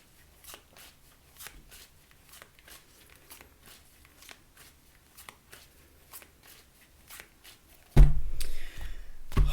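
A Rider-Waite tarot deck is shuffled by hand in a quiet room, giving soft, regular riffling flicks, followed by a louder burst of rustling handling at the end.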